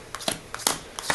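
A packet of playing cards shuffled by hand for a card trick: three or four quick riffling bursts, close and crisp, with short pauses between them.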